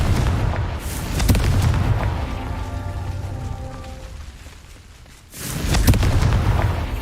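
A Confringo spell in the Hogwarts Legacy video game detonates as heavy booming blasts, one early and another near the end, with a crackling, rain-like rumble between them.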